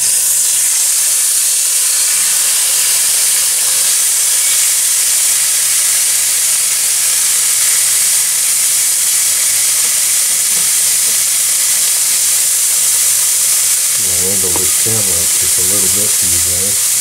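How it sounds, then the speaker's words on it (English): Ground pork fries in a pan with a steady, loud sizzle and hiss throughout, broken near the end by a few brief scraping or stirring sounds. "This is ground pork, which I'm going to fry."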